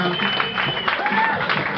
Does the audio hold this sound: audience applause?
yes